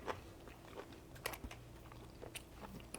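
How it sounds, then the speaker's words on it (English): Someone bites into and chews the crunchy crust of bakery bread, with quiet, close crackling crunches in an irregular rhythm of sharp snaps and softer chewing, and no talking. "That crust is so crunchy."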